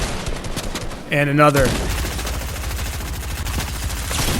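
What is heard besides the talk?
gunfire in the video game Fortnite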